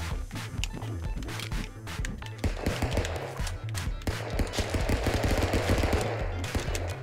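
Gunfire in the Stick Fight video game rattles out in dense rapid bursts, loud and continuous throughout, with busy game noise and no clear talk.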